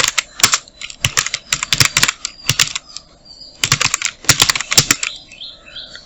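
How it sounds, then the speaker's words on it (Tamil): Keys clatter on a computer keyboard in quick irregular bursts of close, crisp clicks, pausing briefly between runs of typing, with no voices. "GVR அப்படின்னு டைப் பண்ணிக்கிறேன்."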